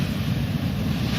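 Ocean surf rolls onto the beach at Soulac-sur-Mer in a loud, continuous roar, mixed with heavy wind buffeting the microphone.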